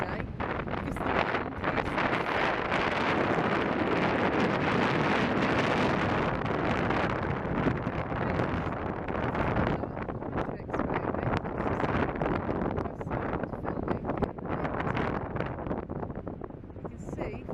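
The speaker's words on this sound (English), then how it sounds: "I'm not sure if you'll be able to hear me at all today because the wind" Strong wind at a beach buffets the microphone in a loud, continuous roar that swells and eases slightly across the whole stretch. Any voice is buried beneath it.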